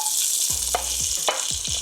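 One onion sizzling in melted butter in a pot, a steady hiss and crackle of frying with a few soft scrapes and stirring knocks close by.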